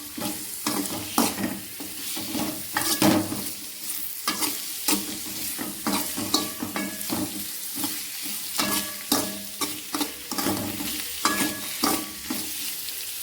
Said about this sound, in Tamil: நம்ம எண்ணெயில் மட்டும்தான் இது வணக்கணும்